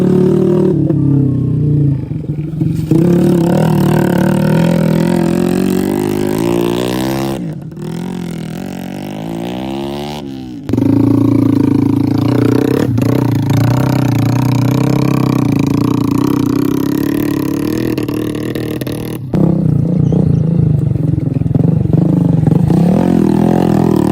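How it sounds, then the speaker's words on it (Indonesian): Grain-hauling motorcycles roar through a muddy rice field at harvest time, their engines revving loud and close in repeated surges, with brief dips as the wheels slip. "Mesin meraung, roda sesekali selip"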